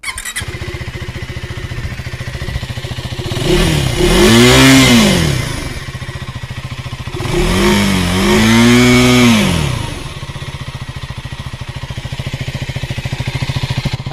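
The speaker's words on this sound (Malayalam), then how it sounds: "അത് തിരിച്ചു കൊണ്ടുവന്നിട്ടുള്ള മനോഹരമായിട്ടുള്ളൊരു എക്സോസ് നോട്ട് നമുക്ക് കിട്ടുമെന്ന് പ്രതീക്ഷിക്കാം" A 2024 KTM Duke 390 motorcycle with an underbelly exhaust idles close by, then revs hard twice, each blip rising and falling in pitch before settling back to a steady idle.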